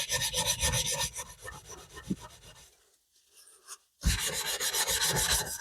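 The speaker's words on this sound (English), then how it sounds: "simply a couple of seconds rubbing with wire wool, that bit's come quite" Wire wool is rubbed briskly back and forth against a motorcycle exhaust in close, scratchy strokes, pausing briefly before the rubbing resumes, with no voices.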